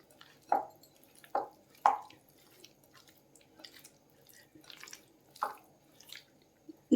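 Paneer, onion and capsicum being stirred into masala, giving a few sharp wet squelches and taps spaced a second or so apart, close and fairly quiet, with soft sticky shuffling between them.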